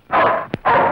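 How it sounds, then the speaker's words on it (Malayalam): A single short, close yelp from a puppy sits in a brief gap between two stretches of loud, steady broadband background noise. "പുലിയെങ്കിലൊന്നും അല്ല, പട്ടിക്കുട്ടിയാണ്"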